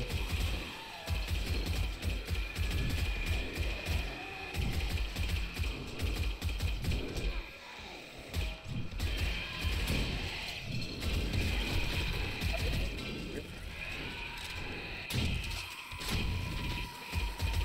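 Repairing a hatch in the survival game 7 Days to Die, with repeated mechanical clanks, ratcheting and heavy thuds hammering on continuously and loud through the whole stretch, without speech.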